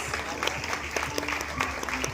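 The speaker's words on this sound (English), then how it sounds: "he deserves a big round of applause" Audience applause at a college fashion show, a steady wash of clapping from a crowd lasting the whole moment, fairly even in level with scattered sharper claps.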